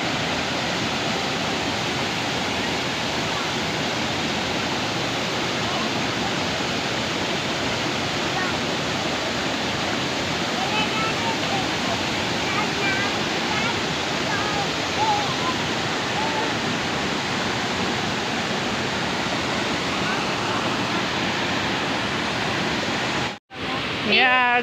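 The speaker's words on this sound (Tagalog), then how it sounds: "going to the next fall, the second waterfalls" Bega Falls in Agusan del Sur pours as a steady, loud, broadband rush of falling water, continuous and unchanging for the whole stretch with no voices over it, ending in a brief dropout.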